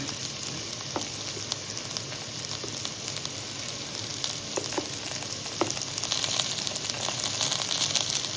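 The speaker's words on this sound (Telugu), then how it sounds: "వేగిపోయినాయి, ఇంకా ముక్కలు వేగిపోయినాయి, ఇంకా కారం చల్లుకున్నాయి." Ivy gourd (dondakaya) pieces fry in a pan with chili powder, giving a steady close sizzle with scattered small pops and stirring scrapes, growing slightly louder toward the end.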